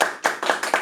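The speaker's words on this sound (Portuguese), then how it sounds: "uma salva de palmas para ela" A handful of distinct, close hand claps welcoming a guest on a Portuguese-language podcast, about four sharp claps in quick, slightly uneven succession within under a second.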